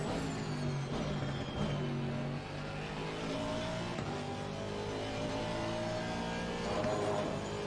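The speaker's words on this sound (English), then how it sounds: "you've got that nice engine rumble" A racing sim video game car engine rumbles and revs steadily, pitch rising and falling through gear changes, loud and continuous with no talking.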